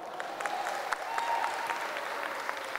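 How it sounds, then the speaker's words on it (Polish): Audience applause at the opening of a Polish fitness championship in Gdańsk, a quiet, steady patter of clapping from a moderate crowd heard from some distance. "Wielkie brawa!"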